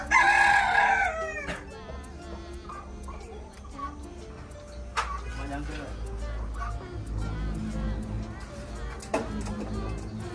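Rooster crowing loudly up close at the start, followed by chickens clucking and a dog barking in a poultry coop area, with people talking throughout.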